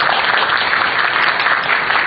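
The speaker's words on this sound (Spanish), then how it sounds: "Le damos un fuerte aplauso a ella." An audience at a conference gives a speaker a burst of applause, a dense, even wash of clapping that fills the whole moment.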